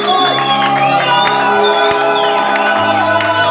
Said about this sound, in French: Reçois une grande offrande d'acclamation, une grande offrande de cris de joie.